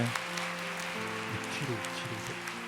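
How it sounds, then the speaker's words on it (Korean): A church youth congregation claps in thanks after a member's testimony, a steady wash of applause over an organ or keyboard chord that keeps sounding underneath. "우리 박 형제 다시 한번 감사의 박수 드리면 좋을 것 같습니다"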